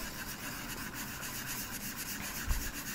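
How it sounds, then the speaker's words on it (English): Soft, continuous scratchy rubbing of a microfine sanding pad over an unfired precious metal clay piece, close and steady for a few seconds. "like to come in at least with the microfine sanding pad"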